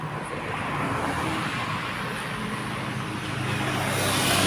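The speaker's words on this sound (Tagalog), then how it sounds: "Very busy ang ano, ang highway." A steady roar of busy highway traffic streams past on a wide road near Binangonan, Rizal, with cars and trucks blending into continuous broadband noise that swells slightly toward the end.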